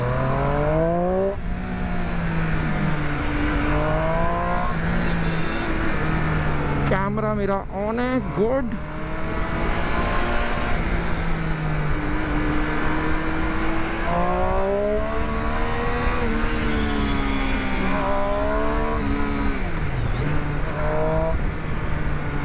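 Triumph Street Triple RS with its 765 cc triple, engine note rising and falling through the gears as it rides on a road, steady and close, with a rider talking over it.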